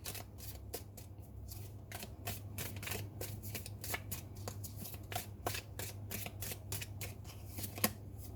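Close, steady riffling of a tarot deck, with rapid repeated card flutters over a low constant hum and no voices.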